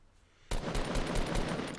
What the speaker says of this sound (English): hearing the gunshots